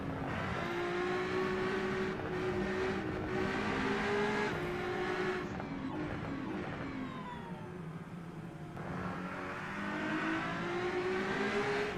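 A race car engine in the video game Rennsport revs high and steady, pitch rising and dipping through gear shifts, loud and close with no talking.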